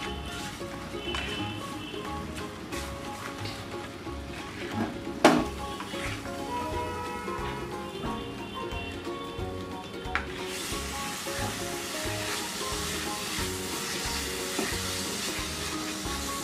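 Grated carrot halwa with sugar simmering in a pan, a steady soft sizzle and bubbling with occasional stirring scrapes, close and continuous throughout.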